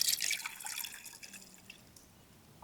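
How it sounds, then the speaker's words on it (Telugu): Water pours and drips into a pot holding about 50 grams of tamarind set to soak. A bright splashing burst comes first, then it thins to scattered drips and fades, with no voices. "ఒక 1/2 లీటర్ దాకా నీళ్ళు వేసుకోవాలి"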